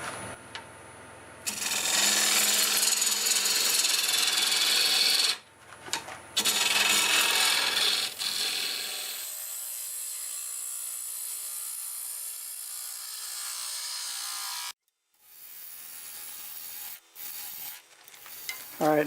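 A half-inch swept-back bowl gouge cutting sequoia wood on a lathe gives a close, loud scraping hiss that comes in bursts with short pauses, then fades to a quieter rasp before a few final brief cuts.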